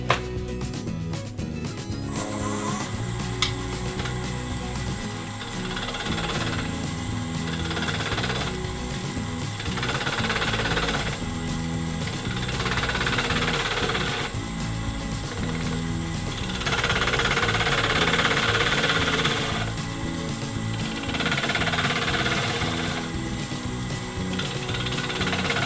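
A spindle gouge cuts on a wood lathe, elongating an off-centre drilled hole in a small turned wooden pendant. The steady, rumbling cutting noise rises and falls in gentle passes for about twenty-five seconds, with no speech.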